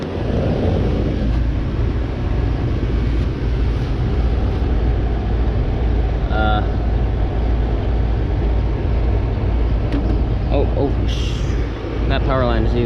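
A running 2016 Armstrong Air 5-ton central air conditioner with a Copeland scroll compressor and a fan motor, heard up close as a steady, loud broadband hum and whir throughout, with someone talking over it.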